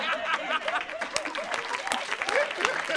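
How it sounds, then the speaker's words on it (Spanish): A comedy show audience applauds, quick clapping mixed with chuckles and laughter, close and lively, with voices audible over the clapping. "Un aplauso para Ignatius Farray, enviado de Sivas"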